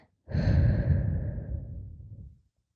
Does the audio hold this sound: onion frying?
no